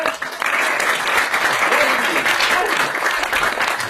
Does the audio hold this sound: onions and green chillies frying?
no